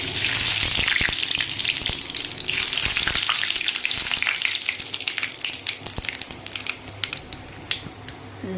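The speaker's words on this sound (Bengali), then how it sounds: "এবার আমি এর মধ্যে কালা জিরা ফোড়ন দিব।" Nigella seeds (kalo jira) hit hot oil in a wok, giving a loud, continuous close sizzle with scattered sharp crackles and pops that thin out slightly toward the end; no talk.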